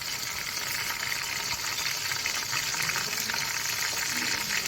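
Chicken pieces browning in oil in a pot for chicken pulao, a constant moderate sizzle with a soft crackling texture, steady throughout and unaccompanied by talk.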